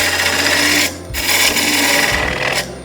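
A Proform hollowing tool cuts into spinning wood on a lathe while a quiro is being made, a loud close rasping scrape that runs in steady bursts with two short pauses between them.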